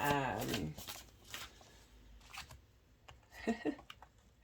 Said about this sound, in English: these decks obviously just want to be shuffled today